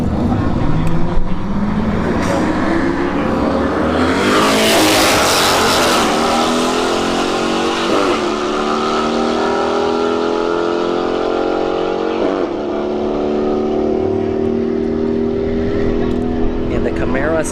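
Camaro SS and Mini Cooper launching side by side at a street drag race, loud engines roaring and rising in pitch through the gears, with a commentator talking over the noise.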